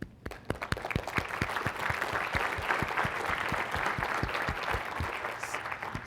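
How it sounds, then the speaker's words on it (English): Audience applause at a public health talk, a dense wash of many hands with a few sharp nearby claps standing out, steady and sustained throughout. "I think we should also give clap to them"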